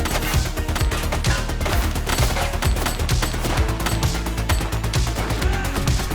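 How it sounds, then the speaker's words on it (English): Close, rapid gunfire from a police shootout in the video game The Precinct, with dense overlapping shots running steadily the whole time and no speech. "He's shooting!"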